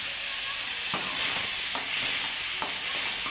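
Pieces of bombil (Bombay duck) fry in hot oil with a steady bright sizzle and hiss, broken by a few soft stirring scrapes, close and unbroken, with no voices.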